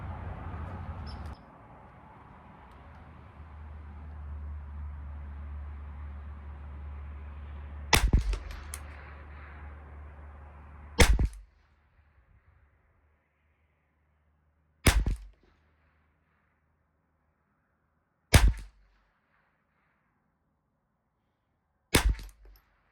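A semi-auto .22 rifle, a Bergara BXR or Ruger 10/22, fires shots at a 50-yard benchrest: five sharp, loud cracks spaced about three to four seconds apart. A low rumble of wind or handling noise comes before them, then near silence.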